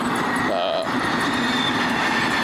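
A train rumbles past loudly and continuously, with a steady roar and faint squealing tones over the noise.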